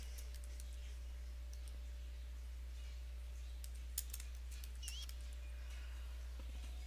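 Sparse, faint taps on a computer keyboard click over a steady low electrical hum in a quiet room.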